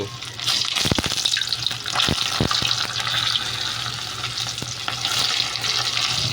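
Tawilis fish bones fry in a pan until crispy, a loud, dense crackle and hiss with a few stirring knocks, close by and without speech.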